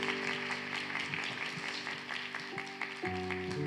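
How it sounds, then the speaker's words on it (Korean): Applause from a church youth service congregation welcoming a young member, soft and somewhat distant clapping under sustained organ or keyboard tones. "저희 박수로 축하해 주겠습니다"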